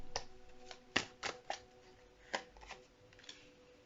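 Tarot cards are shuffled and drawn in a quiet room, with a series of soft, close, irregular riffling and flicking snaps.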